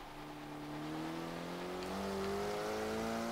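Car in the racing game Forza Horizon 3 accelerating, engine tone climbing smoothly and growing louder over a few seconds, alone without talk.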